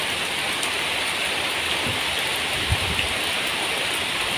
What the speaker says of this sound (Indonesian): Ketika musim hujan begini ya langsung terkena air hujan, diguyur hujan siang dan malam